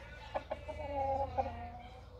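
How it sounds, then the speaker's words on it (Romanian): A rooster on a family homestead gives a few short clucks, then a longer, drawn-out call, close by and with no talk over it. "cel mai țanțoș cocoș"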